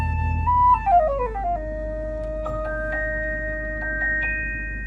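Flute melody with gliding, descending notes, then a held tone with a few brighter notes, played through a Toyota Fortuner's rear-seat three-way active audio speakers over a steady low hum.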